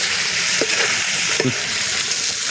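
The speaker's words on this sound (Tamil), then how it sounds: "தரமான ஒரு காட்டுக்குள்ளே கறி வறுத்துட்டு இருக்கிறேன்" Pepper chicken fries in a pan outdoors in a forest, a loud, even sizzle throughout with two brief clinks of a spoon against the pan.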